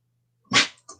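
A pet dog lets out one short, sharp sneeze up close, followed by a smaller snort a moment later, in an otherwise quiet room.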